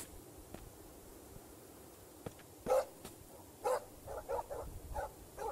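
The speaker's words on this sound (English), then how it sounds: "Do we have a dog? Hey, doggy. Good boy." A dog in a quiet Emika game demo lets out a few sharp barks, then a quicker run of short yips and barks near the end, close and clear against faint background ambience.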